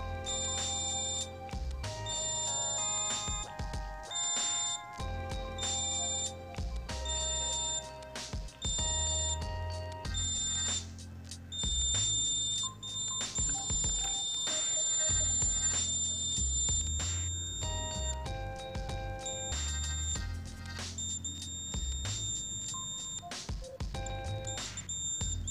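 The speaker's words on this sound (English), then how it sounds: "it triggers the buzzer and LED." A shrill electronic alarm buzzer on a breadboard laser security alarm, triggered when the laser beam is blocked, beeps in repeated tonal bursts over a busy background, sounding continuously and fairly loud throughout.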